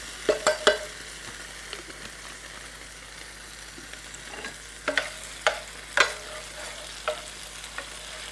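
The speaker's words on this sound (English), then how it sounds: "we're letting our butter melt here. We're going to add 1 tablespoon of garlic" Garlic sizzling in melted butter in a pot as chicken fettuccine Alfredo gets underway: a soft, steady fry hiss with scattered sharp pops and clicks, mostly faint and close, with no voices.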